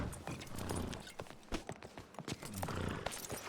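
Horse hooves clip-clop in a role-play video game, a run of sharp uneven hoofbeats over a low rumbling backdrop, close and with no talk over them.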